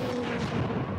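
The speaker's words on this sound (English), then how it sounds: "Explosions and such sound like they're correct." Explosions from the video game Mass Effect 2 Legendary Edition, played on Insanity difficulty: a dense, continuous wall of booming, rumbling blasts, loud and close throughout with no pauses.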